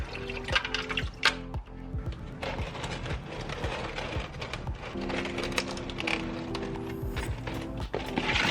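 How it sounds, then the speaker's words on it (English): Oil and water mixture draining out of a Mazda RX7 engine, a steady liquid trickle with scattered drips and small metallic clinks, moderately close, running continuously with no talk. "Still draining that oil water mixture."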